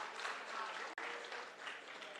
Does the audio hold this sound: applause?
yes